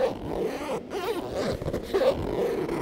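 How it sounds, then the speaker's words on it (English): A heavy-duty zip on a Drifta shovel bag runs steadily for about three seconds, a close, continuous ratcheting scrape with brief pauses and shifts in speed as the slider travels around the bag. "Good strong heavy duty zips, as you can see, that work freely all the way around."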